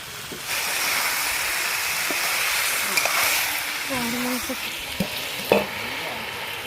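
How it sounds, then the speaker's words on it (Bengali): Desi chicken pieces fry in a pan while being stirred, a continuous sizzle overlaid with scraping and clinking of a spoon against metal, close-up, with a brief faint voice-like tone in the middle. "এবার আমি মাংসটা ভালো করে কষিয়ে নেব একটু সামান্য লবণ দিয়ে দেবো"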